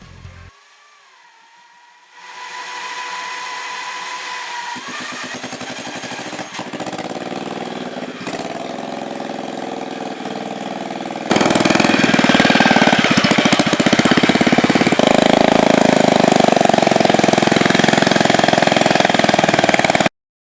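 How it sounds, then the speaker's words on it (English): An antique Harley-Davidson boardtrack motorcycle engine on a test run starts up and runs with a rough, loud mechanical roar, then revs harder and stays at a louder, steady pitch, close by. "So this is going to be the first time I actually open it up and see what this thing can do."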